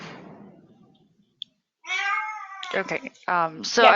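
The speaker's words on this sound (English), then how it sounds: "I apologize for my cat that is making the background noise." A cat meows loudly several times in the foreground, a drawn-out cry followed by shorter ones, after a person speaks briefly.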